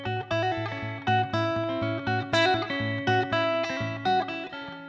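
An electric guitar is fingerpicked, with a steady alternating bass under melody notes and a slightly distorted, effects-laden tone. It plays alone and clearly.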